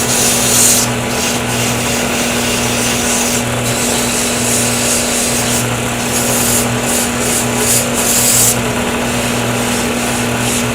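Sandpaper rubbing a wooden pen blank spinning on a woodturning lathe, a continuous rasping scrape over the motor's steady hum, with brief pauses and shifts as the paper is repositioned.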